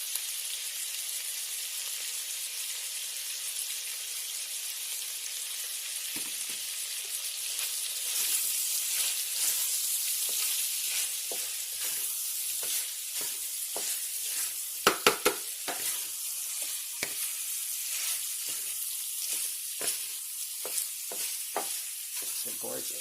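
A wooden spatula stirs and scrapes sizzling meatball mixture with Italian seasoning in a wok, steady bright hiss overlaid with repeated scraping strokes that grow busier midway, with a couple of sharper knocks.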